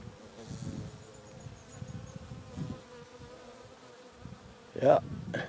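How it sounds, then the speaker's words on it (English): Big black bumblebee buzzing outdoors among flowers on a hill in Arizona, a faint, wavering drone that swells and fades as it moves, with a louder close burst near the end. "There's our bumblebee."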